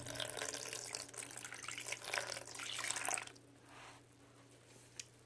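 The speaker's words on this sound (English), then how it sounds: "So now I'm going to add about 3 ounces of water." Water pours from a tap or container into glue while making slime, a steady bright splashing stream for about three seconds that then stops, leaving a faint hum and one small drip or tap near the end.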